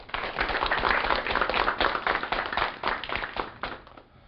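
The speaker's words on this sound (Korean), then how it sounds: "그럼 박수로 청해 주시죠" Audience applause welcoming a lecturer to a televised special lecture, a close, dense burst of many hands clapping that holds steady and then tapers off at the end.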